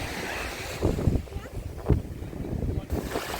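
Strong wind buffets the microphone by the sea at Arcadia, Odesa, with gusty rumbles and surging wave noise, and voices faintly mixed in.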